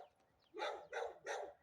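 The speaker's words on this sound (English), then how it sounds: "you gotta have dogs barking. Looks like a German Shepherd." A German Shepherd in an uptown Evansville, Indiana neighborhood barks three times in a steady rhythm, mid-distance and fairly faint, with no talk over it.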